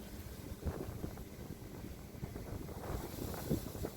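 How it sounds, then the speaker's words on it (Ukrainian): Steady wind buffeting the microphone with low rumbling gusts, alongside faint lapping water; no voices. "Ну, вітер почався, які хвильки."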